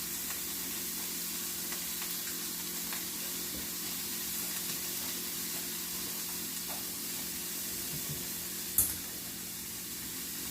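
Onions sizzle in a skillet, a steady broad hiss of frying that runs unbroken throughout, with one brief sharp clink near the end.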